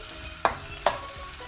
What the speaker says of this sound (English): we're gonna allow it to saute for about 3 minutes